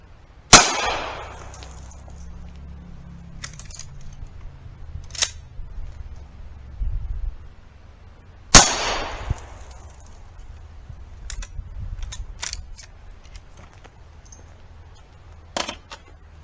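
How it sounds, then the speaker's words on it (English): Two sharp rifle shots from a Marlin firing .38 reloads, spaced about eight seconds apart, each a loud crack with a ringing decay outdoors, followed by faint clicks and small handling noises. "now 2 shots with the 38 reloads from the Marlin"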